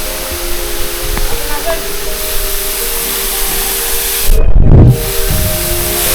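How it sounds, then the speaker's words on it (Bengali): Steady broadband rush of a waterfall in the Bandarban mountains, with a sharper, louder burst of spray near the end and faint clicks early on. "এখান দিয়ে ঝর্ণার মিষ্টি শব্দ শোনা যাচ্ছে"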